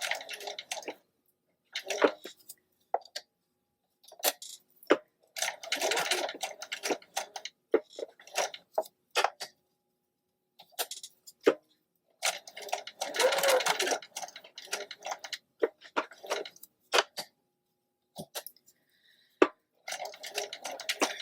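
Sewing machine stitching curves in fabric, running in short irregular bursts with pauses between, close and clear, with no voice over it.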